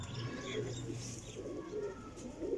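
A cheena sebe wala pigeon with a closed single-feather tail gives a short run of soft, low cooing at close range, with faint background noise around it.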